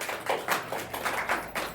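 A gathered audience at a spiritual gathering in a village in Jharkhand claps in a loose, uneven rhythm, with soft repeated hand claps heard at moderate distance.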